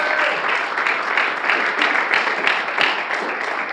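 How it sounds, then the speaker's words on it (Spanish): Church congregation applauding during a Spanish-language sermon, steady dense clapping from many hands filling the room at an even level throughout. "Denle un aplauso al Señor."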